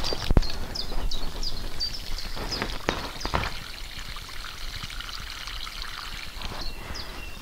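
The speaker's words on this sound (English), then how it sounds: "I'll give these two a really good water." Water pours and trickles onto garden soil around newly planted plants in a soft, continuous flow, with a few sharp knocks early on and faint birdsong in the background.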